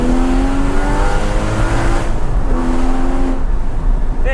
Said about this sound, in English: it sounds so much better